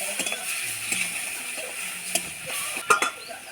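Spices frying in a pan over a wood fire hiss and crackle steadily after a splash of water is added, with scattered stirring clinks and a few louder pops near the end.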